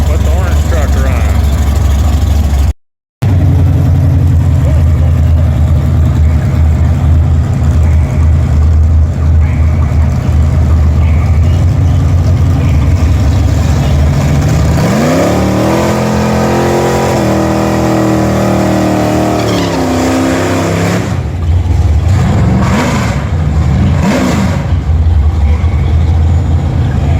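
A freshly built orange Chevy S10 truck on its first drag strip run, with a loud engine idling and revving in rising and falling sweeps, under crowd noise and talk.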